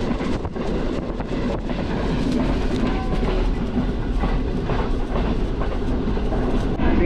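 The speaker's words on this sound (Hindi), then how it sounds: "ट्रेन बिन कासिम क्रॉस कर चुकी है" Passenger train of the Green Line Express running past Bin Qasim, a steady loud rumble with rhythmic clickety-clack of wagon wheels over rail joints throughout, heard from on board with no talking.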